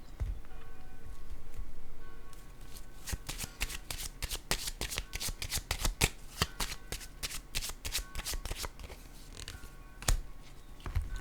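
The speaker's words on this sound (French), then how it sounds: "Je vais déposer une autre carte." Tarot cards being shuffled and laid down, a close, continuous riffling and flicking with sharp snaps of cards slapping onto a surface, heard alone without talk.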